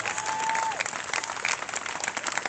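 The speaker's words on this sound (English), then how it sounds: "Will you clap for justice?" A night protest crowd in Portland claps in response to a speaker, dense steady applause from many people with a faint whistle-like tone near the start.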